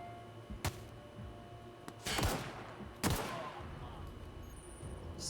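A gun in The Outer Worlds fires several sharp, loud shots spaced unevenly, some with a ringing tail, over the background of game combat.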